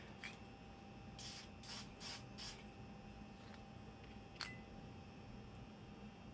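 Dull coat finish sprayed from an aerosol onto a model train car in several short bursts, a quiet steady hiss with a faint background hum and no talking.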